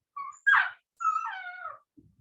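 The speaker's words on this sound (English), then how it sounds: "Can you hear my dog?" A dog whimpers and cries at a door, giving a few short, high, wavering whines followed by a longer, falling whine, heard fairly close with silence between the cries.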